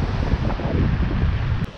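Rough ocean surf at a bay roars in a continuous, close wash, heavily mixed with wind buffeting the microphone, with no talking.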